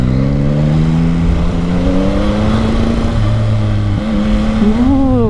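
A brand-new classic 889cc motorcycle engine idles steadily up close, a continuous low rumble with layered harmonics that rise and shift as the revs change, no talking over it.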